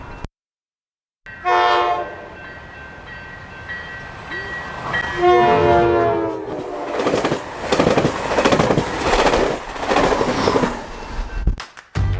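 A train rumbles past with a loud horn blast, then clattering wheels and rolling noise building and fading as it goes by, at the end of Leucadia Boulevard in Encinitas, California.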